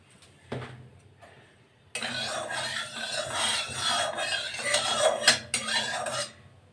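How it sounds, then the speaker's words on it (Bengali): Boiled potatoes rasped against a metal grater in a home kitchen while making aloo paratha, with a steady scraping run of close strokes following a couple of brief knocks. "আলুগুলোকে আমি গ্রেটারে করে গ্রেট করে নেব।"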